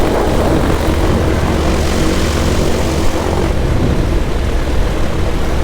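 A microlight aircraft's propeller engine drones loudly and steadily while taxiing on an airfield, a close, continuous buzzing hum with no talk over it.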